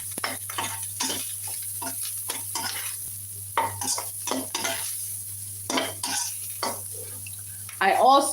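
Seasoned prawns go into a hot skillet with a steady low sizzle, broken up by stirring and scraping clatter from a utensil.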